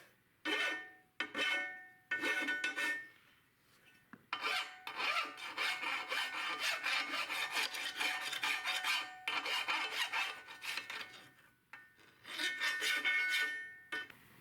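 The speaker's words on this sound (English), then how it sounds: "let's file off these sharp edges" Rough rasping strokes of a file scraping metal, in bursts with short pauses between, close and fairly loud, no talking.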